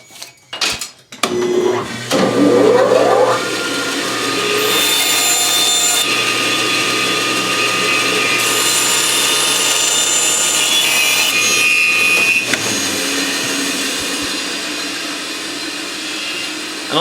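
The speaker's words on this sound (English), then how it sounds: "Do that on the bandsaw." A bandsaw trims the excess binding ends on a Mya-Moe guitar body, running as a loud, steady whine with a sharp burst at the start of the cut, then continuing evenly until it stops near the end.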